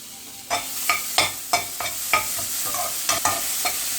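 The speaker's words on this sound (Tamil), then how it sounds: "அதே வானல்லையே நான் இந்த திருவின தேங்காவையும் இதிலேயே நான் போட்டுக்கிறேன்." Grated coconut is stirred and fried in a pan for sweet somas, with a spoon scraping and tapping the pan in irregular strokes over a faint sizzle and no talking.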